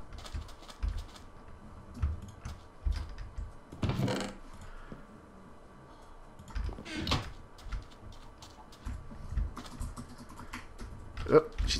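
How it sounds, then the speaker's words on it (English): Keyboard typing in a Minecraft superhero mod session, heard as short bursts of soft clicks scattered through the clip, with louder thumps and clatter at moments and faint background game sounds. "Oh, she's typing something."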